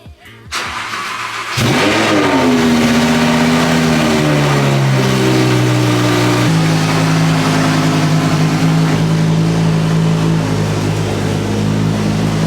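A car engine with its whole front end removed cranks and catches after a short silence, then settles into a loud, steady idle with slight changes in pitch.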